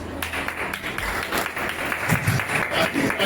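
An audience claps steadily at an art workshop closing ceremony in Bareilly, a dense, sustained round of applause filling the whole moment with faint voices mixed in.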